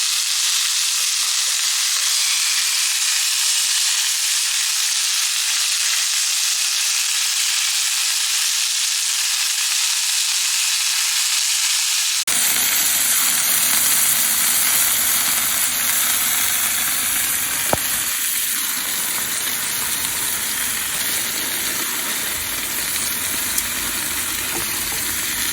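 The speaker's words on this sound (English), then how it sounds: "Turn the steaks over now." Scotch fillet steaks sizzle loudly in a hot frying pan, a dense steady crackle running throughout. Partway through, the character of the sizzle shifts, with occasional sharper pops. No one speaks.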